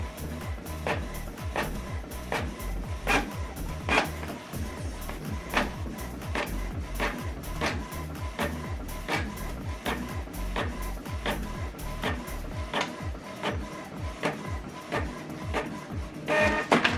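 A printer runs off a return label, a steady run of rhythmic mechanical clicks and feed strokes, loud and close, with no voices over it.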